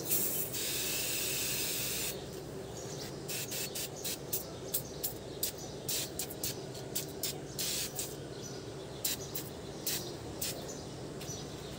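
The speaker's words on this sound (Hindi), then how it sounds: "तो अभी हम इस पर स्प्रे करेंगे ये इंटीरियर क्लीनर।" Interior cleaner is sprayed onto car seat covers, starting with a long steady hiss and then a quick series of short, sharp spray bursts at close range.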